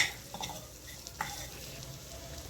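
Amla pickle being stirred in a pan after jaggery goes in, a steady soft scraping with faint sizzling and a couple of light spoon taps, close and alone.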